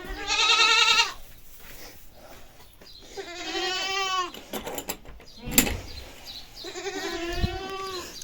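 A goat bleats three times, long wavering cries close by, with quiet rustling and a thump between the calls.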